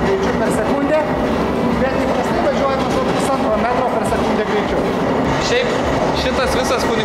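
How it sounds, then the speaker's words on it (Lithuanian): A Swiss-made funicular starting to move with its motor running, heard from inside the car as a steady mechanical rumble and rattle beneath continuous talk. "Funikulieris pradeda judėti, variklis užsikūrė ir matom, kaip viskas atrodo iš vidaus."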